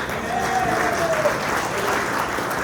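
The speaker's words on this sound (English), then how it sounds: "let's give them a round of applause, okay?" Guests at a mayoral update event applaud, with a steady, loud wash of clapping and faint crowd murmur underneath.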